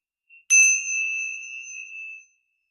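Tingsha bells struck once, giving a bright metallic ding that rings on as a clear, sustained tone and fades out over about two seconds, heard alone.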